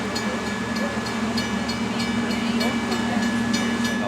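A heritage railroad locomotive rumbles steadily past, with a constant low drone and broadband rolling noise holding at a close, even level throughout.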